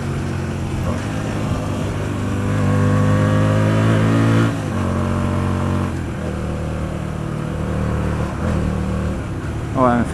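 A 2008 Hyosung GT125R motorcycle engine drones steadily in fifth gear while riding, a loud close hum with wind noise that rises and falls slightly, and a rider talks over it.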